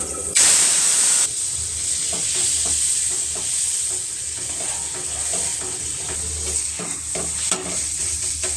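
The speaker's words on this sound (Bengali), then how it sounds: "এদিকে পালং শাকটা ভাজা হয়ে গেছে" Ground spinach paste frying in a pan with black cumin and tomato, a loud burst of hissing steam as it hits the oil, then steady close sizzling with repeated stirring scrapes.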